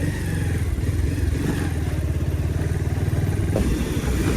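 A motorcycle engine runs on a wet off-road trail, throbbing steadily and close by with a regular low pulse and clattery mechanical texture. No speech.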